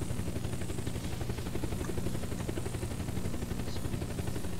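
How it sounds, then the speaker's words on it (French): Helicopter in the survival video game Unturned, a dense continuous rotor thump and engine roar that stays loud and steady throughout, with no speech. "Me voici dans un hélico."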